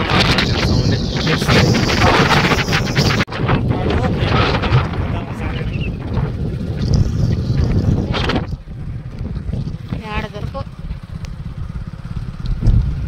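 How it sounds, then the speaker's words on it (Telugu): Heavy wind buffeting the microphone with a roaring engine rumble underneath, loud and continuous, as if riding on an open road. "గాలి"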